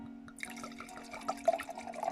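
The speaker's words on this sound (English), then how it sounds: "let's fill the glass a bit more" Red Nero di Troia wine from Castel del Monte poured into a glass, a soft liquid trickle with small drips and splashes building toward the end, close and fairly quiet.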